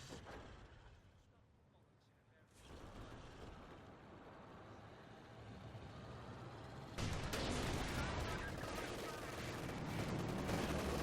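A Panzer IV tank fires in Company of Heroes 2 amid ongoing battle gunfire and rumbling engines, the noise growing louder and denser toward the end while someone talks over it.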